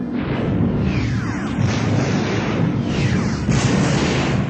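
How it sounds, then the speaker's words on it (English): A continuous roaring explosion from a space station reactor blast rumbles on, dense and loud, with crackling bursts and debris layered over a deep booming wash. "The blast started a chain reaction of internal explosions."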